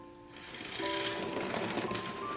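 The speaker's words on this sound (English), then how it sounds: "We're using a mixer to mix our room temperature butter first, then our raw sugar." An electric mixer whirs at high speed, beating room-temperature butter and raw sugar in a bowl with a steady buzzing drone and rattling beaters, close and loud with no talk.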